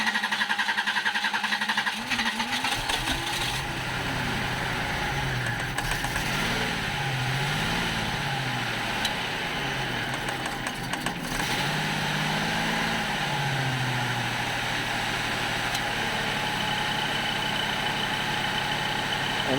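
A flooded car engine cranks briefly, then catches and runs at a rough, wavering idle with revs surging and dipping, steady and close for the rest of the stretch.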